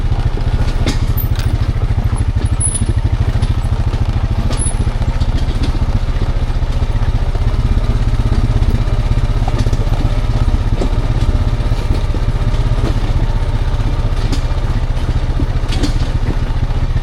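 An ATV engine runs steadily while towing a Vevor dump trailer, a constant low, rumbling drone with some clatter, loud and close for the whole stretch with no talking.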